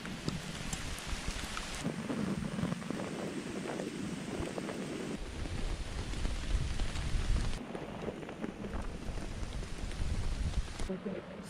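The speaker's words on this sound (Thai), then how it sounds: "ฝนเนี่ยก็ได้ถล่มลงมาแล้วนะครับทุกคนครับ" Heavy rain pours down on a campsite in the middle of a forest, making a dense, steady hiss and drumming that fills the whole scene. A voice can be heard at times under the downpour.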